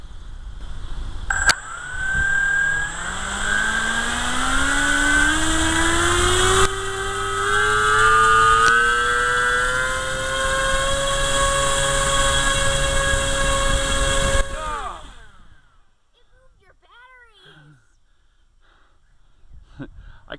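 An electric motor on a Sea Fury model spins a four-blade propeller, whining upward in pitch as it spools to a loud sustained howl, then cuts off and winds down, followed by quieter brief voices nearby.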